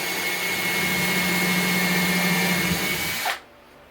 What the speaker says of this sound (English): Alright, I'm going to pre-drill.